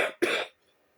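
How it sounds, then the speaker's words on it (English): Two quick, harsh coughs close to the microphone, the second louder and longer, followed by silence. "was trying not to cough"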